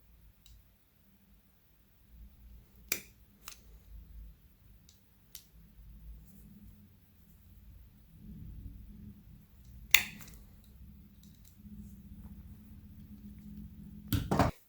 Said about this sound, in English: we need to punch holes at the top